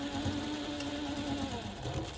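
A sewing machine back stitching a seam on a zippered project bag, making a soft, continuous mechanical whir with a rapid even pulse, fairly quiet and close, with no talking.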